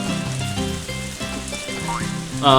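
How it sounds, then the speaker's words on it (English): Rain falls in the Harvest Moon farming video game as a steady, soft patter under gentle looping background music, with a short chime near the end and no talking. "Oh, it's raining."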